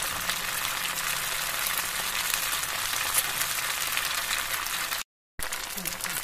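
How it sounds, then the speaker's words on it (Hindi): Suji (semolina) cutlets frying in very hot oil, a steady dense sizzle running throughout with a brief dropout near the end before the crackle resumes. "अब हम जो हमने कटलेट्स बनाए थे उनको हम ये गरम तेल में फ्राई करेंगे"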